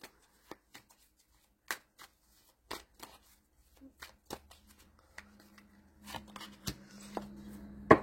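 Tarot cards being shuffled and drawn by hand, a series of crisp separate snaps and flicks spaced across the moment, with a denser riffling rustle building near the end; quiet and close, with no talking.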